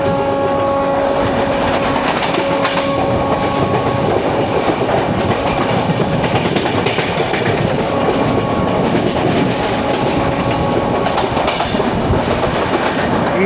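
The Netravati Express rolls past on an Indian railway line, a loud, continuous rumble of wheels with rhythmic clickety-clack over the rail joints, steady throughout and without voices.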